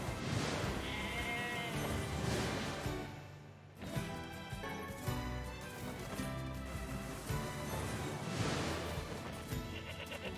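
Sheep in the video game Nier Replicant bleat repeatedly over game music, several drawn-out cries rising and falling across the stretch.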